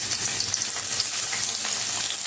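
Chopped onion and green chili frying in hot white oil in a wok for chow mein: a dense, steady hiss of sizzling oil, close and fairly loud, continuous for the whole clip with no talking.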